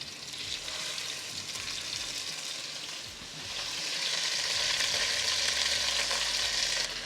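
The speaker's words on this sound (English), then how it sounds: "Getting that good sizzle on there." Braciole sear seam side down in hot oil in a pan, a steady bright crackling sizzle that swells slightly louder in the second half, with no voices.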